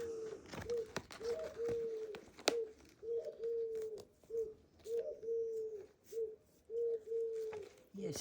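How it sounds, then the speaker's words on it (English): A cuckoo calls repeatedly in the background, a steady series of soft two-note coos at a moderate distance, mixed with scattered sharp taps and rustles close by. "Yes, we have a cuckoo."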